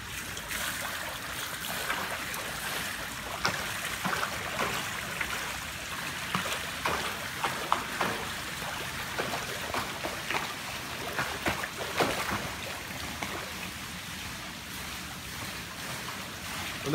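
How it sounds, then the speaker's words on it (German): Water swishes and splashes continuously in a rapid, irregular rhythm, the churning sound of a front crawl flutter kick close by. "Bei meinem Beinschlag hat man jetzt eben dieses Zischen, dieses Flutschen gehört."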